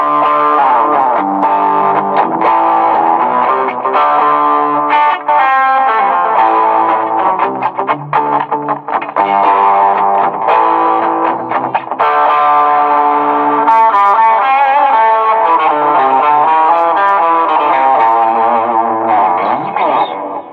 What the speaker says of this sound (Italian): Vogliamo giocare con un po' di distorsione un po' più cattiva, quindi andiamo a chiamare il pick up